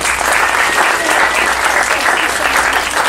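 A large audience bursts into sustained, loud applause, many hands clapping together in a dense, even roar that holds for several seconds.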